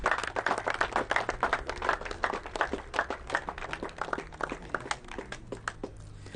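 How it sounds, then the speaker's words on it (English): A crowd at a T10 cricket finals day at Hornchurch, England clapping steadily for several seconds, a dense patter of many hands at moderate distance with no voices over it. "So a big round of applause to the ECN crew."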